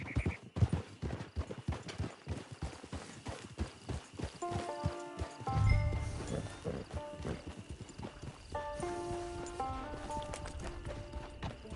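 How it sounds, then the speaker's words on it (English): Steady clip-clop of hooves on a hard surface in Red Dead Redemption 2 Online, a horse walking close by, with a few snorts and a faint whinny in the middle. "There's the camp. It's your horse."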